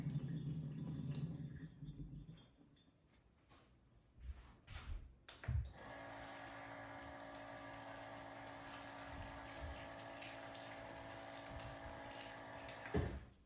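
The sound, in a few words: draining and rinsing water off blueberries and grapes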